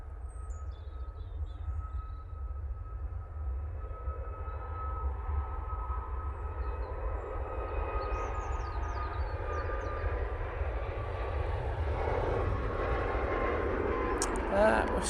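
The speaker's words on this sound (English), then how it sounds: "Ryanair 73 on the roll." A Ryanair jet airliner rolls for takeoff at Manchester Airport bound for Copenhagen, a low distant rumble with a thin engine whine building slowly, while people talk nearby.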